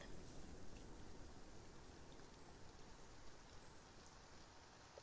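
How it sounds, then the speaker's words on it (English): Steady rain falls in the Path of Titans game, a faint, even wash of dense drops hissing continuously with no other sounds. "There's the rain."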